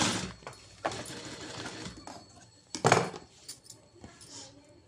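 A sewing machine runs in short bursts while putting a top stitch through the main fabric over a lining, with a loud rattling run near three seconds and quieter stops and clicks between, close by with no talk.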